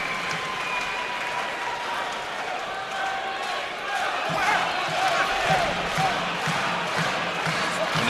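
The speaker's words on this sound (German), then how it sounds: "Das Publikum steht nochmal hinter Timo Hoffmann" A boxing arena crowd cheers and applauds during the last round of a WBF title fight, a continuous roar that swells midway, with a commentator talking over it.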